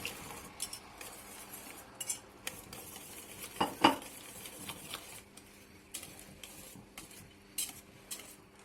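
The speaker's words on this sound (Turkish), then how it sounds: "Arkadaşlar çorbamın içine yoğurdumu ilave ediyorum. İyicini çırpıyorum." A spoon or whisk beats yogurt into bulgur soup in a metal pot, giving irregular clinks and scraping strokes with a sharper cluster of metallic knocks midway, close and without speech.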